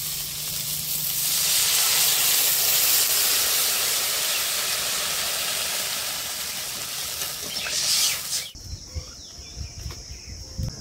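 Water poured into a hot pan of fried potatoes bursts into a loud steaming hiss that swells and slowly fades, then cuts to quieter bubbling.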